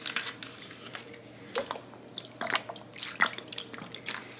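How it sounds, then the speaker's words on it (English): Hydrogen peroxide and water poured into a container at home, heard as soft liquid splashes and drips in uneven bursts, close and fairly quiet, with no voices. "I might just top it up with a little more peroxide and water, which is exactly what I'm going to do."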